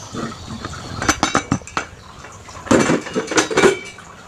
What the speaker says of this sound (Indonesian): akan saya buka tutupnya.